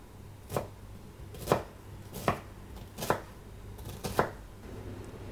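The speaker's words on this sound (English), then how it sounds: "We'll mince up 100 grams of red onion." A knife chops through red onion on a board in about six sharp, evenly spaced thuds, close and fairly quiet, with a faint low hum in the room.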